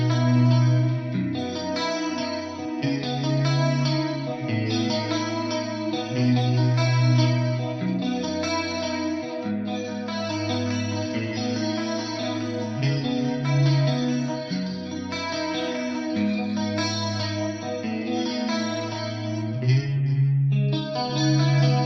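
Electric guitar on the neck and middle pickup combination, run through a Mesa/Boogie FormulaPre preamp with added chorus, echo and reverb, plays a steady repeating riff with sustained chords, moderately loud and alone.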